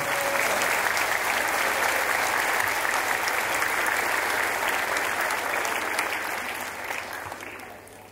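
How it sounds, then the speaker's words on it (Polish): Concert audience giving warm applause for the guitarist, a loud sustained burst of clapping that holds steady and then gradually fades toward the end. "gorące brawa."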